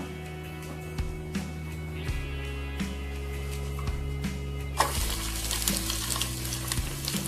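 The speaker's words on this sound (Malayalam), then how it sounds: "നമുക്കിതിലേക്ക് ഉള്ളി കറിവേപ്പിലയും താളിച്ചിടാം" Onion and curry leaves tempering in hot coconut oil for a Kerala fish curry, giving a steady close sizzle that swells into loud, bright frying about two-thirds of the way through, along with a low hum.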